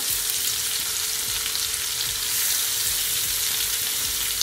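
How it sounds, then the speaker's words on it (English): Garlic butter shrimp spaced out in a hot pan, browning with a strong, even sizzle that hisses close and continuous without a break, no voices. "I'm just gonna allow my shrimp to brown on each side for at least 2 minutes, no longer than that"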